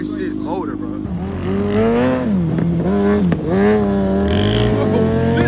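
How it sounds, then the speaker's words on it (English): A Yamaha Raptor 350 ATV fitted with a 636cc motorcycle engine revs hard nearby outdoors, its loud engine pitch climbing and dropping through repeated throttle blips in a yard. "Raptor 350 with a 636 motor, bro."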